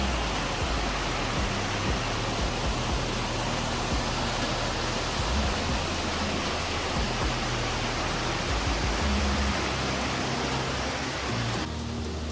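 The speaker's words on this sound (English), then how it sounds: "There's the waterfall." A mountain waterfall roars steadily and loudly from close by, a continuous broadband rush of falling water with no voices over it.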